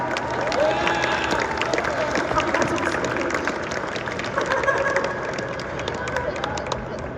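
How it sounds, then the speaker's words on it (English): Crowd at the Boston Fan Expo applauding and cheering for a guest, a dense, steady wash of clapping and voices close by, with talk mixed into the noise throughout. "Round of applause for this guy."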